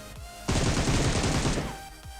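A single sustained burst of automatic gunfire in the mobile battle royale game PUBG Mobile crackles for about a second, loud and close, with no talk over it.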